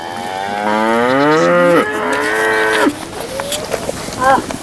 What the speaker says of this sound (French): Le matin, j'aide ma grand-mère à s'occuper des vaches.